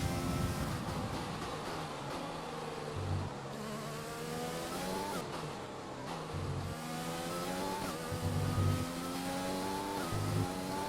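Formula 1 race car engines in the F1 2020 video game at the British Grand Prix, a continuous high revving whine with rising and falling pitch as cars accelerate and pass, loud and close with no talking.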